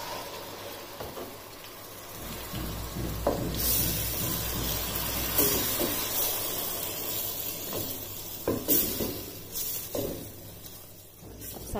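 Tomato paste poured into a hot pan over garlic and ginger paste, giving a steady close sizzle and hiss with a few louder bursts of spitting, and no talk.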